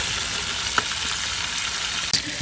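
Fish fry sizzling steadily in hot oil in a pan after being flipped, a continuous close crackling hiss with a couple of faint utensil clicks and no voices.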